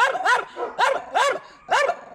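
A Spanish terrier-type dog barks four times, clear and fairly close in an uneven rhythm, with short pauses between barks in a village setting.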